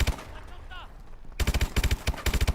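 Rapid bursts of gunfire from the Call of Duty Advanced Warfare video game, a loud close automatic volley after a quieter stretch, shots cracking in fast rhythmic clusters.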